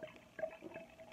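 Beer, a HOMES Brewery Shades NEIPA, poured into a glass: a faint, soft liquid trickle and gurgle with a few small splashy bursts, quiet and close over low room tone.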